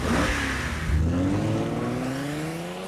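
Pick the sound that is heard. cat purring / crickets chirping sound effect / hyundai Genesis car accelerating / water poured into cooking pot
hyundai Genesis car accelerating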